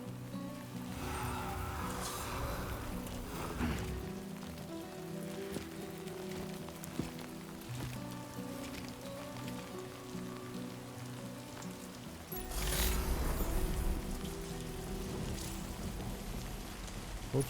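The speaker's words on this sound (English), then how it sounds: "Of course, it started raining." Steady rainfall in the video game Death Stranding 2: On the Beach, a continuous hiss of drops on surfaces with low rumbling ambience beneath, swelling louder near the end.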